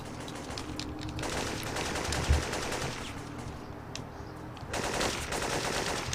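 Gunfire in the PS1 game Syphon Filter 2: rapid automatic bursts crackle almost continuously, with one sharper shot midway and a brief lull before the firing resumes.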